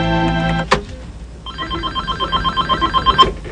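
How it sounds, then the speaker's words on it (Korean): A telephone rings with a bright electronic tone, then a sharp click, then a fast repeating trill that pulses steadily for a couple of seconds, close and clear with no voices. "며칠 후 뜻밖에 걸려온 한 통의 전화"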